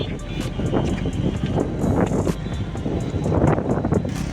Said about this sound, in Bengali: বৃষ্টি নামছে অনেক জোরে।